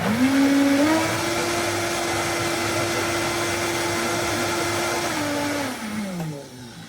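A blender whizzing chocolate tofu mousse runs as a steady, loud motor whine that ramps up, holds for several seconds, then winds down to a stop, with no talk over it.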